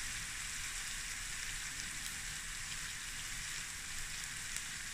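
Onions fry with black pepper in a pan for a tuna and egg noodle stir-fry, making a soft, even, hissing sizzle that holds steady throughout with no one talking.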